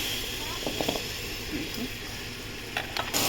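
Jaggery goes into a hot wok, setting off a steady sizzle with a few light utensil clicks and scrapes.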